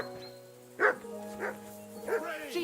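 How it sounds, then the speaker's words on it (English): A dog barks in the medieval game Kingdom Come Deliverance II, giving three separate sharp barks roughly half a second apart over a steady low game ambience. "Henry, that barking's driving me nuts."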